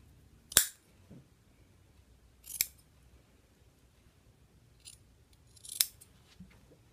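Scissors snip upholstery on a Parsons chair in a quiet room, with three sharp cuts spaced about two seconds apart and a fainter fourth snip in between.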